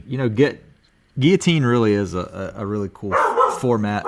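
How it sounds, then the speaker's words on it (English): A dog barks in the background while someone talks over it during a fantasy football podcast recording, the barking partly masked by his steady speech. "Sorry about the dog."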